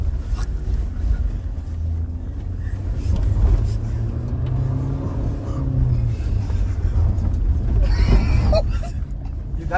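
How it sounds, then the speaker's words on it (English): A 2023 Ford Everest with a 2-liter bi-turbo engine and 10-speed automatic drives along, its engine drone steady beneath loud road and wind rumble from inside the cabin. "Gotta love the pairing of this 2-liter bi-turbo engine with the 10-speed auto."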